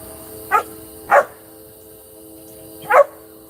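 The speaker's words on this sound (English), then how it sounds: "That's Coyote the dog" A pet dog barking indoors, three sharp separate barks, two close together and then one more after a pause, loud and near over a faint steady hum.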